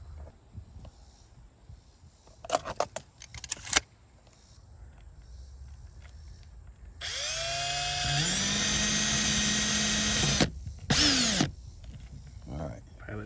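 A power drill spins up a drill bit to bore a pilot hole during a Pioneer mini split install. First come short taps and clicks, then a steady whine whose pitch climbs as the motor winds up, a few seconds of loud, close drilling, and a final short burst.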